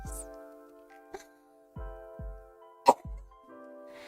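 A person coughs several times in short separate bursts, fairly close, over a steady tonal game-music background.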